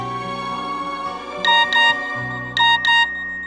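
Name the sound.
phone ringing while calling passport office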